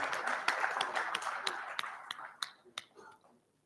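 A sparse round of applause at a telecom event, a handful of distinct sharp claps over a soft crowd bed that thins out and fades into scattered final claps, with faint murmuring.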